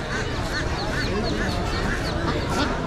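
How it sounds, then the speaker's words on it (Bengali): Domestic ducks and geese at a rural village poultry market in Mymensingh give repeated quacks and honks amid a steady crowd murmur, with voices talking in the background throughout. "এখানে দেশি হাঁসের পাশাপাশি রাজ হাঁসও রয়েছে"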